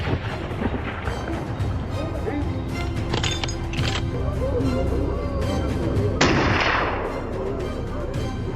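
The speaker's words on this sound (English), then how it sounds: "The double pressure of barking dogs and successive gunfire turned the forest into a giant trap" Gunfire rings out during a wild boar hunt in a forest, several sharp reports over a steady noisy background, with one loud blast near the end.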